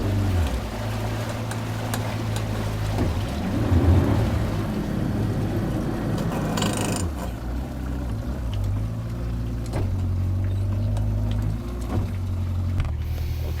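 A continuous low engine drone with a shifting pitch, like a motorboat cruising, steady and fairly close with some wind and water noise.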